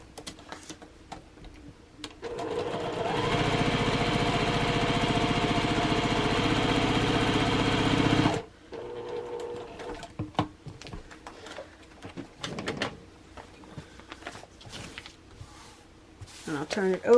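A sewing machine stitches fabric in a steady, humming mechanical run lasting several seconds, then stops, with someone speaking afterward over scattered handling noises.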